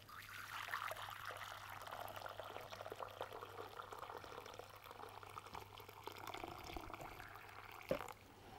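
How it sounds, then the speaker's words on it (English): Water is poured steadily into a marbling tray for about two liters' worth, a continuous soft splashing trickle at moderate distance, with a brief clunk near the end. "We're going to pour the water in first."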